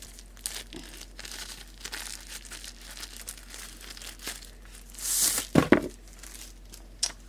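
Plastic packaging around a magnetic keyboard wrist rest crinkles and rustles, building to a louder tearing burst of handling noise near the end.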